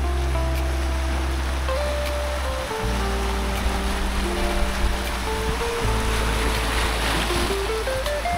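Sea water laps at a shallow bay on the Croatian coast, a steady close wash of small waves with a low rumbling undertone and no voices.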